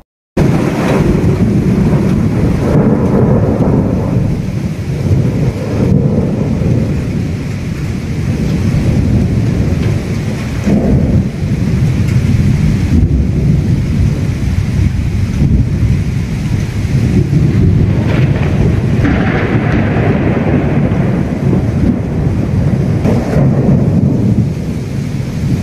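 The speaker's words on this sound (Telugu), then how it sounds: "గ్రేటర్ విశాఖను అర్ధరాత్రి వేళ గడగడలాడించిన బికార ఉరుములు మెరుపులతో కూడిన వర్షం" A heavy midnight thunderstorm over Greater Visakhapatnam brings dense, roaring rain and deep rolling thunder that swells and fades repeatedly, loud and continuous throughout.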